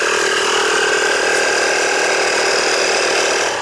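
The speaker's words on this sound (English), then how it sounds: "it's running the compressor just fine" An air compressor runs steadily on 120-volt household AC from a Bluetti lithium solar power supply, a loud continuous mechanical drone with a constant pitch for the whole stretch.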